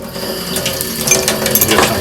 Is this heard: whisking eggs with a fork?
yes